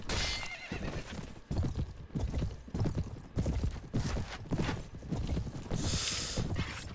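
A horse gallops in Mount & Blade Warband, rapid close hoofbeats pounding in a steady rhythm with a whinny near the end, loud and with no talking.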